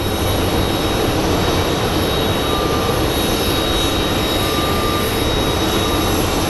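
A WestJet jet pushing out at Phoenix Sky Harbor, with a loud, steady jet-engine whine and a high tonal hum over a constant broadband rush, close by and without any talking.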